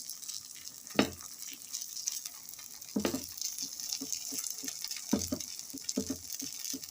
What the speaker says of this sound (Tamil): இப்படியே எல்லாத்தையும் திருப்பி விட்டு வேக வச்சுருங்க.